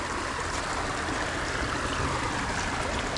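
A rain-swollen creek pours over a small rocky waterfall, a steady, dense rushing wash heard up close with no break and no voices.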